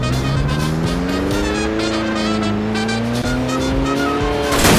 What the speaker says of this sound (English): I think I'll take the red car first for a spin!